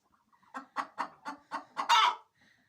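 Hens of different colours cluck close by near a henhouse: about six evenly spaced clucks, then a louder drawn-out squawk, with no talking.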